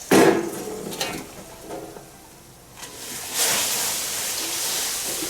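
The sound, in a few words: pig blood curd poured into boiling water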